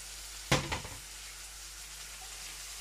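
Shatkora citrus pieces dropped into onions frying in a pan for a red amaranth dish give one brief sharp sizzle burst, then the pan settles to a faint steady hiss.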